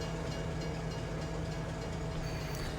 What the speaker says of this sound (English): You don't want to go too fast because the train does have very weak brakes on it.